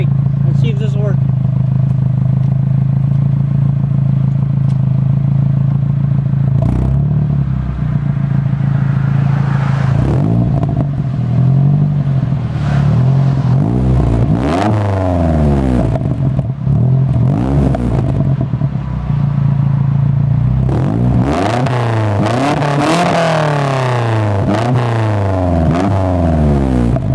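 Nissan 240SX with a KA24E engine idles loudly through its exhaust, then revs repeatedly in rising and falling bursts, each blip climbing and dropping back to a steady rumble, close and dominant throughout.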